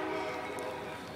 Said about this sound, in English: we got Amtrak P090 arriving into Hamlet